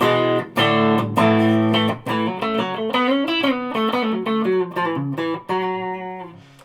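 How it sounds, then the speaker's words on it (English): Aria Pro II CS-250 electric guitar on a clean setting with reverb, neck humbucker selected, played as a flowing run of picked notes and chords that ring and overlap, with no voices. "I will put the reverb on while we're in clean."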